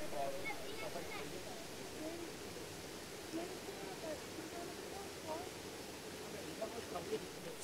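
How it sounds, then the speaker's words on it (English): Steady rushing water from Mallion Spout Waterfall, a constant broadband roar at moderate distance with no voices. "So, this is Mallion Spout Waterfall"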